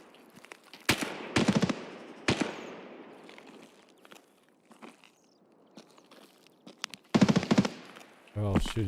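Bursts of gunfire from scavs in the shooter game Escape From Tarkov, several sharp volleys and rapid strings of shots at varying distances separated by quieter gaps, with a loud close burst near the end.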